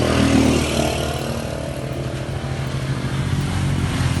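A motorcycle engine runs close by with a steady, rumbling idle after a brief rev at the start, loud and continuous with no voices.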